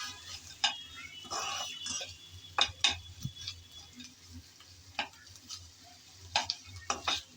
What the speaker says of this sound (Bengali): এখন আমি আলু আর কাঁকরোলের দানা নেড়ে চেড়ে ভেজে নেব।